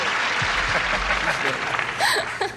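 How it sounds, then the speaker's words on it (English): A game show studio audience breaks into a short burst of clapping while a host keeps talking over it, with a brief chuckle near the end. "let's have a little applause for Kim, Jack"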